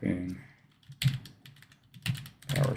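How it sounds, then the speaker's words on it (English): Typing on a computer keyboard during a live cybersecurity challenge session, heard as short clustered bursts of key clicks with pauses between them, fairly close, over a faint background hum. "we type in"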